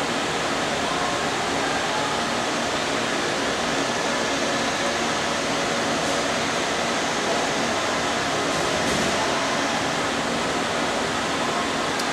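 A Monarch EE metal lathe runs under thread feed, giving a steady, smooth broadband whir and hum that holds evenly from start to finish with no speech.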